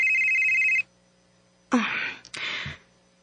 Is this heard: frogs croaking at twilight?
no